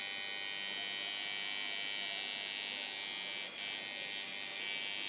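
A tattoo machine runs steadily after being tuned, giving a constant high electric buzz that holds level throughout, with one brief dip near the end. No voices are heard.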